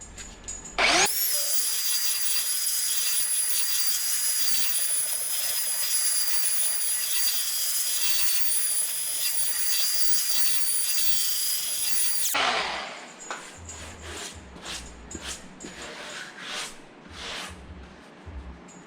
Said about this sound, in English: we're sanding it off